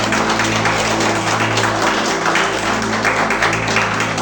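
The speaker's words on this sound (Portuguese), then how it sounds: "Palmas para Jesus." A church congregation claps for Jesus, dense continuous applause with a steady rhythmic beat, loud and close, without speech over it.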